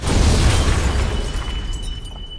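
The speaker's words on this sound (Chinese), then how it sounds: "艾达随即扔出了一枚震波手雷，" A shockwave grenade explodes in a sci-fi action film fight scene, a loud, dense, rumbling blast that fills the whole clip and slowly fades toward the end.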